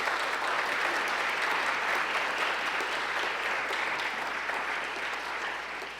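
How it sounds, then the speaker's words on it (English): Steady audience applause at a Daisy Bates 100th birthday celebration, a dense, even wash of many hands clapping that fades slightly at the end. "I think they deserve another applause"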